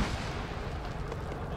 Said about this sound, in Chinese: 我爆炸了。 敌人应该用枪榴弹反击。